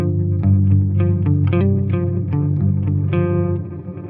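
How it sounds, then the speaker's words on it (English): Electric guitar riff run through a Walrus Audio Fable ambient pedal: loud, sustained chords and notes with a gritty, distorted reverb wash beneath, swelling continuously before tailing off at the end. "what is that reverb, that grittiness that's underneath that main riff?"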